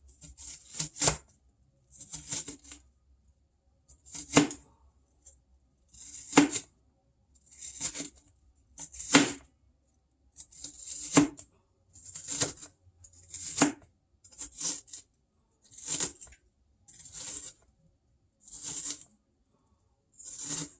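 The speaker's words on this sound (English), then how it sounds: "I'm going to turn those around and chop them up a little finer" A knife finely chopping food on a cutting board in a home kitchen, heard as about fourteen evenly spaced bursts of rapid close chopping strokes separated by short silences, with no talking.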